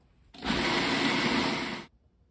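A blender whirs for about a second and a half, mixing raw vegan cheesecake filling with maple syrup: a loud, steady, high-pitched motor drone that starts abruptly and cuts off, with quiet before and after.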